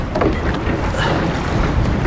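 A small rowboat out on the open ocean in steady wind, with a continuous low rush of wind and water against the hull, loud and close, no voices.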